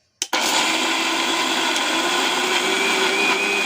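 A kitchen mixer grinder pastes ginger and green chillies, switching on with a quick jolt and then a loud continuous whirring roar throughout.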